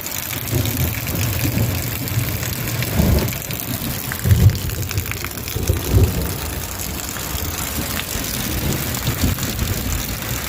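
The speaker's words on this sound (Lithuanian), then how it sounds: "O, lietus. Nenormalus kažkoks." Unusually heavy rain falls steadily and close by, a dense continuous hiss with a few low thuds and bumps, and no voices.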